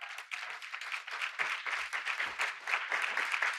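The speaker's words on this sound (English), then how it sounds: "Let's give them a round of applause." Audience applause at a community awards evening, a steady wash of many hands clapping continuously, fairly distant and even, with no talk over it.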